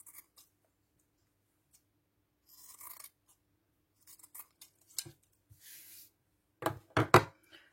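Scissors trim fabric seam allowances on a sewn cloth wipe, with a series of quiet, crisp snips spaced apart and closer, louder cuts near the end.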